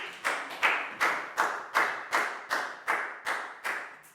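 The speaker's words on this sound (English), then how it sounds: "a big round of applause for Pangpon" Children in a classroom clap for a classmate in a slow, even rhythm of about ten sharp claps, each one bright and close with a short decay, with no talking over them.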